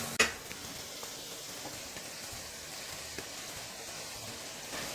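Eggplant sautéing in a pan with tomato, turmeric and salt, giving a faint, steady sizzle with a light clink of a utensil at the start.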